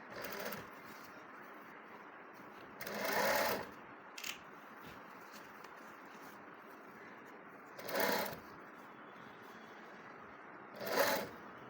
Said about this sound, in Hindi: तो थोड़ा सा गैप छोड़ के फिर सिलाई लगाना शुरू करांगा यहाँ तक।